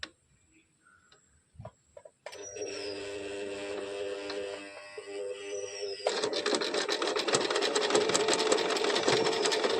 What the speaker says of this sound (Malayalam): ഇത് സ്റ്റിച്ച് ചെയ്ത് കാണിച്ചു തരാം